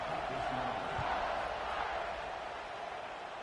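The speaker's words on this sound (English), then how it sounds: "They're set to kick it off, and this crowd now ready to get behind them." Stadium crowd noise at kickoff in the College Football 26 video game, a steady broad roar of many voices sustained throughout and fading slightly toward the end.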